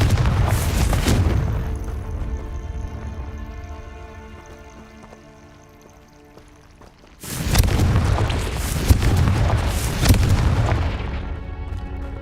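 Two heavy booming blasts from the Confringo blasting spell in the Hogwarts Legacy game, each a loud broad explosion followed by a ringing, fading tail.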